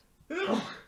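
One short, voiced sneeze bursts out suddenly after a moment of near silence, then fades within about half a second.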